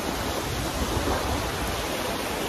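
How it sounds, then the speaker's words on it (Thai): Gentle sea waves wash steadily onto a smooth, clean sandy beach at Rim Phe in Rayong, Thailand, making a continuous soft rushing surf with no talking. "อากาศดีคลื่นไม่แรงนะคะ"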